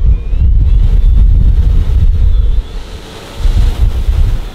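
Heavy wind buffeting with a steady wash of rain-like noise during an off-road drive through a forest in a car, loud and continuous with a brief dip near the end, no voices.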